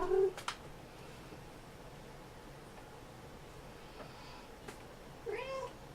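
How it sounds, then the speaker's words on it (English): A cat meows twice, once at the start and again near the end, short and fairly close, with quiet room tone between. "A cat just entered the room, so I apologize if there's any sort of cat-related interruptions"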